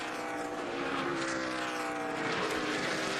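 A NASCAR race car at the 2012 Zippo 200 road course at Watkins Glen holds high revs against the rev limiter in a lower gear, a loud, buzzing, steady engine roar with no talk.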